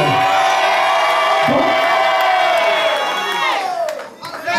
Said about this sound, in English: I said, scream like you need favor.